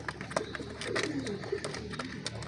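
Red-coloured pigeons of an aggressive breed at a Lahore bird collection give soft, low cooing calls, a few murmuring phrases near the microphone amid faint background noise.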